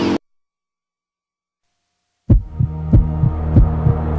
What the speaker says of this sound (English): Feeling your heartbeat faster?